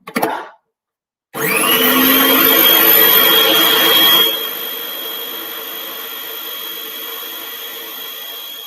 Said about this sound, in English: And then I'm going to whisk that around again.